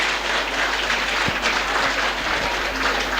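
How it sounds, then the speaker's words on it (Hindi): An audience at a Brahma Kumaris Mother's Day gathering in Delhi applauds a little girl's song with sustained, dense clapping from many hands, steady and fairly loud throughout. "तो बहुत बहुत ताली बजाएंगे उसके लिए"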